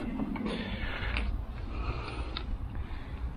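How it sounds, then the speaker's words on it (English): A cordless 56-volt ECHO self-propelled 21-inch lawn mower gets tipped over onto its side, with close creaks, plastic knocks and mechanical clunks over a few seconds. "Flip the mower over and see what it looks like underneath."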